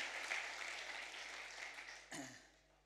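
Audience applause at a church service with a special guest, a steady broad wash of clapping that holds for a few seconds, then thins and fades away near the end.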